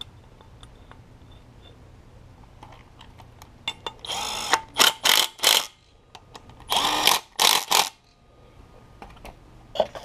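A power tool, likely an impact driver or drill, starts the bolts on a Honda Civic FA5 Si lower engine mount during an engine block replacement, two clusters of short loud whirring bursts with small clinks between.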